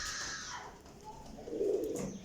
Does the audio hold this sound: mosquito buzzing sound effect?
no